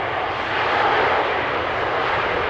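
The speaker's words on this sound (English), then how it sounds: "Most of the heavies coming in this morning from the United States and Canada will land over here" Heavy jet airliner on approach to runway 18R at Amsterdam Schiphol, a steady, loud, broad engine roar holding constant throughout with no voices.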